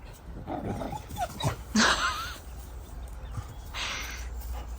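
Puppies bark in a garden, with a few sharp, separate yaps and one louder bark standing out against quiet outdoor background noise.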